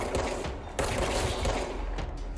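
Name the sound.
gunfire in the video game Control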